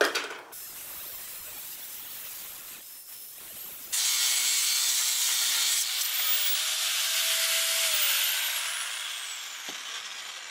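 Metal is cut along a drawn line for a DIY gate and fence project, a close, continuous rasping and whining that keeps going for about ten seconds with no voices.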